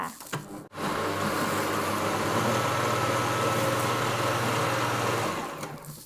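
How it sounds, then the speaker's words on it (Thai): A kitchen blender whirs steadily for several seconds while chopping pineapple for a pie filling, a close, constant motor drone that starts abruptly and then winds down. "มาถึงขั้นตอนการปั่นนะคะ"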